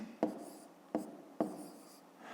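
Pen writing numbers on paper in a math exercise, three short scratchy strokes spaced about half a second apart, close and quiet, with no talk.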